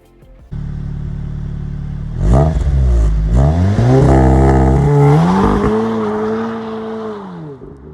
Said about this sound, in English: I did manage to get one clip of me launching my car